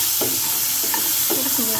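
Crab pieces frying in a pan give a steady, close sizzle, with a few stirring scrapes on top and no voices.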